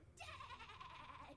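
A sheep-werewolf in Divinity: Original Sin lets out a single wavering bleat, close and fairly clear over a quiet background, with no talking.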